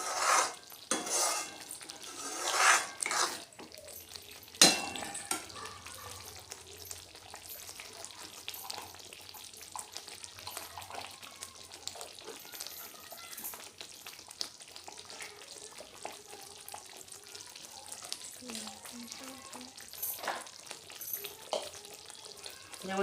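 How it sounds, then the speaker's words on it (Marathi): Masala roasting in hot oil in a pan for paneer masala, a steady sizzle and frying hiss with repeated scraping and clinks of a metal spoon stirring against the pot. "हे सगळं परत आपल्याला मिक्स करून व्यवस्थित भाजून घ्यायचं आहे तेलामध्ये."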